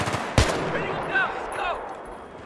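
Battlefield 3 gunfire during sniping: one sharp loud shot near the start, followed by distant rattling fire in the background while people talk.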